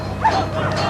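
Police dogs bark briefly at a motorway construction site where security guards block protesters, heard as a quick bark or two amid a noisy outdoor crowd.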